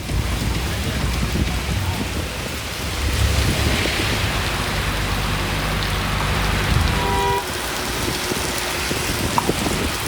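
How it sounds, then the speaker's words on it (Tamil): Heavy rain with wind pours down steadily in the Tiruvannamalai area, a loud dense hiss with low rumbling gusts. It fades a little toward the end as a faint tone sounds. "உள்ளிட்ட பல்வேறு பகுதிகளில் காற்றுடன் கூடிய கனமழை பெய்தது"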